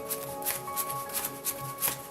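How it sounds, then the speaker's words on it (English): A deck of cards shuffled by hand for a tabletop board game: quick riffling bursts in a steady rhythm, close and fairly quiet, with no talk. "Shuffle the deck and deal each player 6 cards."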